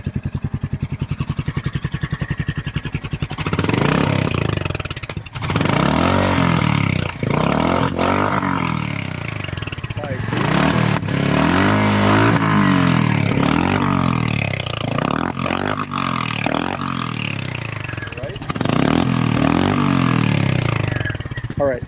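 Royal Enfield Hunter 350 motorcycle with an aftermarket exhaust pipe, starting up and then revving repeatedly in sharp bursts, loud and close, while people talk over it.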